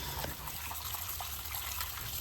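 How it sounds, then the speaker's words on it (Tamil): Tap water runs steadily over boneless chicken pieces being washed in a kitchen, a continuous close trickle and splash with no one speaking. "நான் இப்போ இந்த சிக்கனை நல்லா கழுவி எடுத்துக்கிறேன்"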